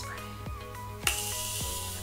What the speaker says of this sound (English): finally some setting spray